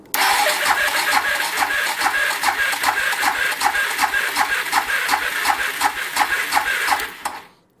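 A Suzuki DR650SE motorcycle engine cranks on its electric starter with the throttle held open for a compression test, a steady rapid chug of evenly spaced compression strokes for about seven seconds before it stops; close and loud, no voices.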